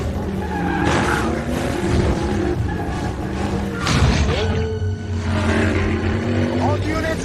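Car engines roar and tires skid in a loud, busy police chase through city streets with thuds, crashes, explosions and voices mixed in.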